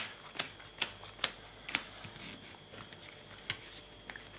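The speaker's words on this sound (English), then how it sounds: "Shuffling 51 cards isn't that big of a deal." A deck of 51 trading cards being shuffled by hand, producing a series of soft, crisp riffling snaps spaced irregularly apart, faint and close with a quiet room behind.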